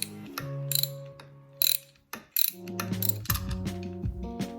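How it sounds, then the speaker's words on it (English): A ratchet works loose the cam chain guide bolt on a Honda CRF450 engine during bottom-end disassembly, giving several short, close bursts of rapid clicking over steady tonal background sound. "Break this cam chain guide loose."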